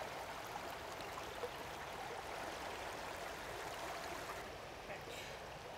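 Steady broadband rush of stream water flowing past a release spot for young salmon fry, continuous and fairly close with no talk.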